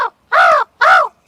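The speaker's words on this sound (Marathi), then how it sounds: "स्कॅन केलं ना पक्ष्यांचा आवाज येतो," Two loud, close crow caws ring out after a clipped first call, played back as a bird sound from a scanned QR code, each harsh call separated by silence.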